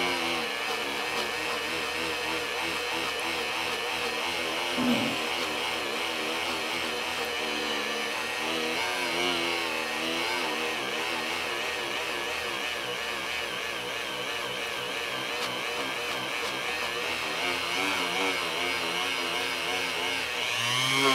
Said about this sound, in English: I found that my little Dremel does just as well.